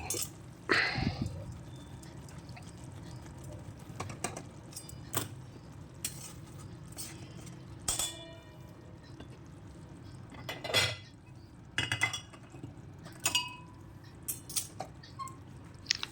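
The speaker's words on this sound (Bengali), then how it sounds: "তো এবার এটাকে একটু নেড়ে চেড়ে নামিয়ে নেব।" Mola fish curry with red amaranth stems and mustard is stirred in a pan, giving scattered light clinks and scrapes of a utensil against metal over quiet background, with no talking.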